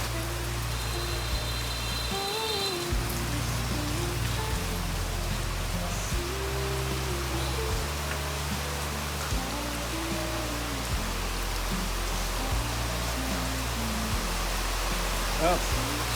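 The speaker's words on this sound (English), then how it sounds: "If it rains like this." Heavy rain pours steadily onto surfaces in a Vietnamese town, a dense continuous hiss with scattered drips, while a low, steady hum runs underneath.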